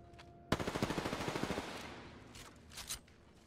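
A sudden burst of automatic gunfire in a battle royale video game, about a dozen rapid shots in just over a second, then a fading echo and a few faint game sounds.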